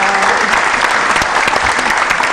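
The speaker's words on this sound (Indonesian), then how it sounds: "Tepuk tangan dari mahasiswanya meriah" Students in an event hall clap loudly and steadily, a dense, lively burst of applause throughout, with no voices rising above it.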